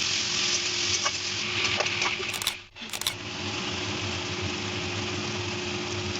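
Garlic and ginger paste sizzles in a pan for a chicken do pyaza, a steady hiss with scattered scraping clinks from stirring and a brief dip midway, no talk over it.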